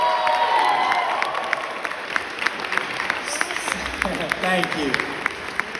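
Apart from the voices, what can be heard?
applause for speaker's wife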